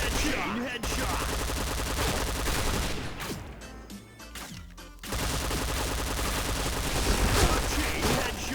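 AUG rifle in the shooter game Point Blank firing dense, sustained bursts of rapid gunshots, loud and continuous, with a brief lull in the middle before the firing resumes.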